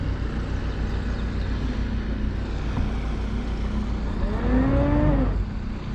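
A boat engine or bow thruster churns in a continuous low rumble on the water, then a rising and falling whine swells near the end before easing off, with no talk during it.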